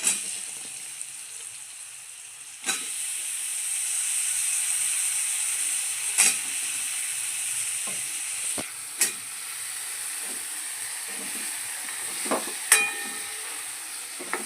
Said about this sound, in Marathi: मशरूम चांगला हलवून घ्यायचा आहे